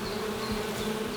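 Bees around a hive in the game The Hand of Glory give off a steady, dense drone of buzzing with no break, close and fairly loud.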